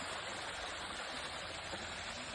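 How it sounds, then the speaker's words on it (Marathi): Waterfall in the Tamhini Ghat hills, a steady dense rush of falling, splashing water close by that fills the whole clip without pause. "बघा बघा धबधबा."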